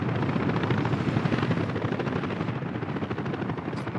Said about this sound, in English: The helicopters should be able to immediately, go and do their thing.